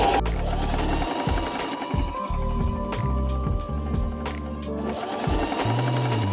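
Sewing machine stitching African print fabric for a hair bonnet, a close, continuous rhythmic chatter that speeds up and slows in short runs throughout.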